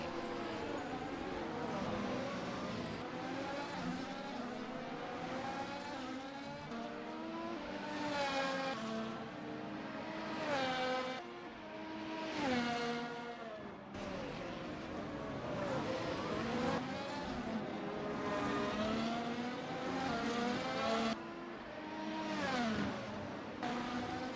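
Race cars at Mont Tremblant during an ARC ACF1 round, engines rising and falling as they pass repeatedly, a continuous whine of revving and shifting throughout.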